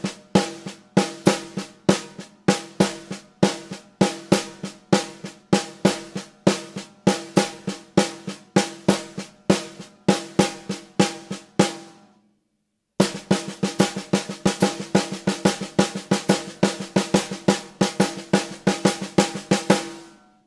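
A drum kit is played in an even quintuplet rhythm, with repeated sharp hits in a steady five-note pulse, a short gap, then the pattern resumes, clear and alone.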